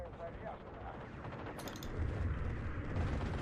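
Bombing of a machine-gun bunker in the WWII strategy game Steel Division 2, a deep rumbling detonation that swells in the second half, layered over ongoing battle noise.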